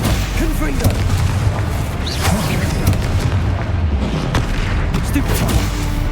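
Spell combat in Hogwarts Legacy with the Confringo fire-explosion spell: repeated booming blasts and thuds fill a dense, continuous battle din alongside other casting effects, loud and close throughout.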